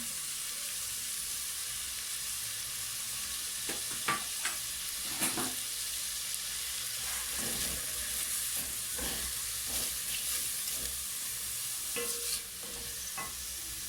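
Onions fry in a pot with a steady, broad sizzle and hiss, punctuated by occasional scraping stirs of a spoon, close up with no talk.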